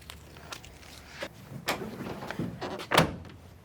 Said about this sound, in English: I just want to see how easy it's gonna be to actually shut the tailgate with it